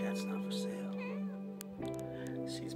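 A pet cat meows repeatedly at close range, its calls running over a steady background hum and a continuous murmur of voices.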